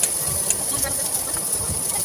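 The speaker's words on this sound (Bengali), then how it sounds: "আমি নুনের সাহায্যে ফুচকাটাকে ভাজছি, কোনো তেল ছাড়াই" Phuchka puris dry-frying in hot salt without oil give a steady, continuous hiss with soft scraping, close and fairly loud throughout, with no voices.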